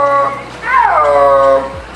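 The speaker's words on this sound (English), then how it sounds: "Okay, now here is the sound of a snow leopard roaring." A recording played as a snow leopard's roar: a brief, high-pitched whining cry rising and falling over about two seconds, close and clear, no talk.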